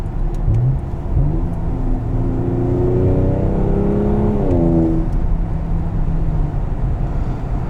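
A 2019 Porsche Cayenne S with an Armytrix exhaust and torque-converter automatic accelerates hard, its engine note loud and close, rising steadily in pitch through a long pull before dropping back after a shift.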